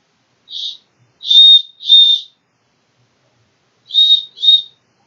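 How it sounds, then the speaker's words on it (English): Five short, shrill blasts from a survival keychain whistle, loud and clear, come in two groups separated by silence: three, a pause, then two. "It's also got a whistle."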